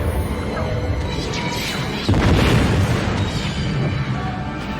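Space battle weapons fire and explosions from a Babylon 5 episode, a dense, loud roar of booming blasts and rumbling bursts that swells and surges throughout, with little break.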